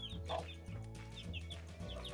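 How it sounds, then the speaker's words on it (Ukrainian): Chickens on a small farm cluck softly and repeatedly in short, uneven bursts, faint but close, with a steady low background hum and no talk. "Ось курчатка, четверо, як я казав."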